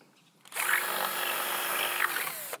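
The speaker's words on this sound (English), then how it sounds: "Then I can carry on drilling that hole, pop in my first nail and anchor" A power drill bores a hole into a garden wall for a trellis anchor, a loud steady whine starting sharply and running for about two seconds close by.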